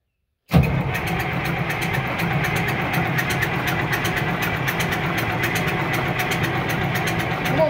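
A Case 2470 tractor engine starts at quarter throttle, turning over abruptly after silence and settling into a steady, loud, close diesel idle with a rhythmic knock.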